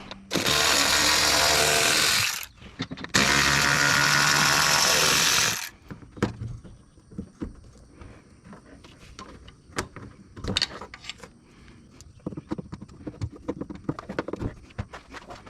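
Power tool spinning out fan shroud bolts on a 2000 Chevrolet Silverado, two loud buzzing bursts up close, then scattered metallic clicks, taps and knocks as push pins are pried out.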